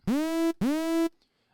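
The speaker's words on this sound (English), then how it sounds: "then if you've got it down, it'll sort of swoop up." Two identical synth notes from Ableton Operator, each starting low and quickly swooping up in pitch before holding steady, then cut off cleanly.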